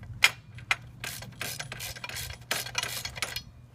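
Engine guard crash bar bolt being screwed in on a Yamaha XSR900 with a Givi guard kit, heard as close, quick metallic ratchet clicks in uneven bursts with a couple of sharper ticks, no speech.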